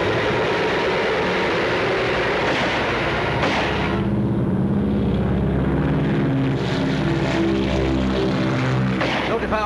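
A World War II era propeller airplane engine drones loud and close, a steady throbbing roar with a rhythmic pulsing beat that holds throughout.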